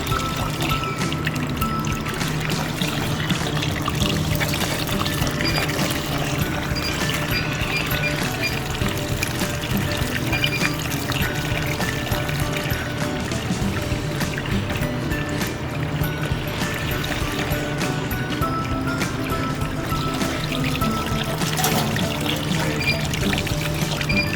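Water pouring and trickling steadily over an evaporative cooling pad in a pig barn, a continuous broad wash of flowing water with a low mechanical hum beneath, no talk.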